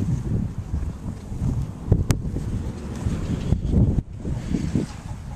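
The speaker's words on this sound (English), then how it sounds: "It's another beautifully windy day on this here in Texas." Gusty wind on a windy day in Texas buffets the microphone in uneven, rumbling bursts, with a brief lull around the four-second mark before the roaring gusts resume; no speech is heard.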